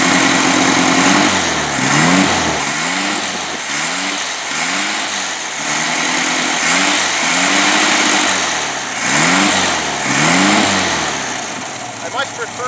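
A 1971 VW Super Beetle's small air-cooled engine idles and revs repeatedly through a loud aftermarket exhaust, its pitch rising and falling in waves.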